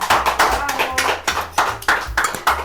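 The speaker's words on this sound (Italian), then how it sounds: "Altro applauso!" Studio audience clapping on a live Italian cooking show where steamed chicken and tagliatelle are being made, bursts of applause with sharp irregular hand claps under a steady musical bed.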